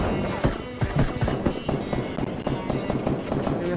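Sharp gunshots crack in rapid, uneven bursts from a video game, loud and close over a busy background.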